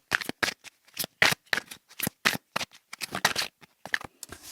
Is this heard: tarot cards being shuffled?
yes